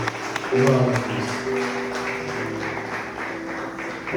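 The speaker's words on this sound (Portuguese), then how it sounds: "e as palmas para nós recebermos nosso presbítero João Rocha." A church congregation applauding to welcome their presbyter, steady scattered clapping of moderate loudness across the room, with a voice speaking briefly at the start.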